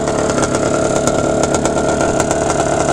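A 1989 Yamaha Zuma BWS scooter engine revs steadily and loudly, its back wheels spinning without grip, with a continuous buzzing drone and small sharp bursts throughout.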